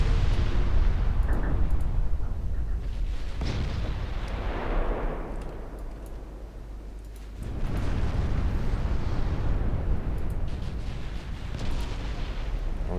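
Naval guns boom as warships fire armor-piercing shells in Ultimate Admiral Dreadnoughts, with heavy rumbling blasts rolling together. The firing is loud and sustained, eases off briefly around the middle, then swells again.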